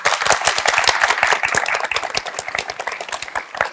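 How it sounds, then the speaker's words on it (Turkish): Applause from a university lecture audience at a neuromarketing talk, dense overlapping claps throughout, fairly loud and steady before thinning slightly toward the end. "Hep bir alkış."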